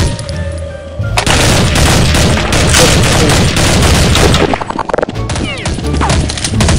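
Counter-Strike 1.6 gunfire comes in a loud, dense barrage of overlapping shots and impacts for several seconds, then eases into scattered bursts, with no voices over it.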